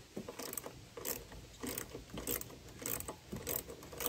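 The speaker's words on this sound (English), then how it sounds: "So I'm gonna take my 10 millimeter socket wrench. I'm gonna start backing out the bolts." A 10 mm socket wrench ratchets while backing out bolts on a Honda push mower, a rapid repeating clicking in regular strokes about twice a second, close and quiet, with no voices.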